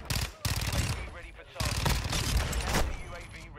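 Rapid gunfire in Modern Warfare 2 multiplayer, loud close bursts with sharp onsets and dense crackling blasts filling most of the moment, mixed with a voice talking over the game action.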